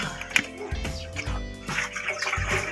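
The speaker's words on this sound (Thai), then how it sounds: "ตักน้ำใส่เลยจ้า" Water is scooped and poured into a container in a few sloshing, splashing pours, close and moderately loud, with no talking.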